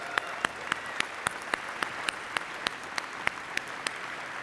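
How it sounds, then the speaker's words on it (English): Conference audience applauding themselves at the opening of an event, a steady wash of clapping and crowd noise with sharp individual claps standing out at regular intervals. "give yourselves a round of applause"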